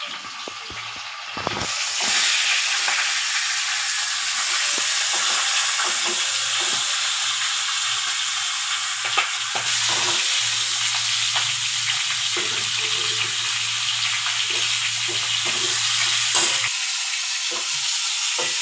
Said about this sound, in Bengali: তেল গরম হয়ে গেছে আমি এবার মাছের মাথাগুলো ভেজে নিচ্ছি